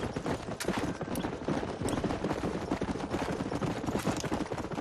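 Horse hooves gallop in a steady, rapid clip-clop in the Western video game Red Dead Redemption, a dense continuous drumming with no speech over it.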